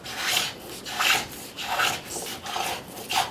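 A travisher shaves and smooths a wooden chair seat in repeated rasping strokes, about six rhythmic scraping passes at close range, with no talk.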